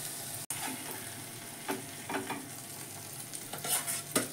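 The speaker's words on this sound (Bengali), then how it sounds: "নিয়ে আবার দুটো ভেজে নেব।" Katla fish paturi wrapped in banana leaf fries in a pan, a quiet, steady sizzle heard up close, broken by a sharp click early on and light bursts of crackle as the parcels are turned.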